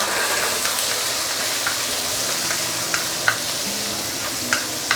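Pork belly hits a very thick caramelized paste in a wok, giving a steady loud sizzle with a few sharp stirring clicks and scrapes scattered through it.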